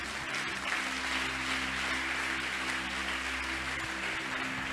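A congregation applauds during a church service, with continuous dense clapping over a steady low hum, sustained and even throughout.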